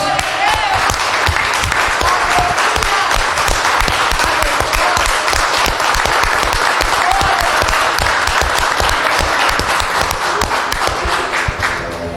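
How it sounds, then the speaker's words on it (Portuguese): Sustained congregational applause at a church service, dense and continuous, with voices calling out faintly amid the clapping for the full stretch. "E aplaudam o Senhor"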